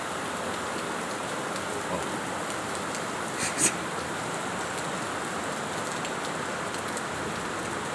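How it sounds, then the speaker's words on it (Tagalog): Heavy typhoon rain pours steadily and loud, a dense continuous hiss of drops striking surfaces, with one brief sharper clatter partway through and a short exclamation from a voice. "Sobrang lakas ng ulan."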